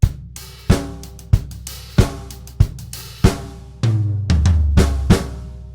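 Drum kit playing the closing three bars of a song: a steady rhythmic pattern of crisp snare and cymbal hits over kick, building into a denser flurry with heavier low drum strikes near the end.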